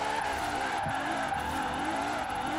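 A completely stock car driven downhill in Forza Horizon 4, its engine droning steadily with a continuous tyre hiss and squeal as it drifts, close and unbroken with no talk.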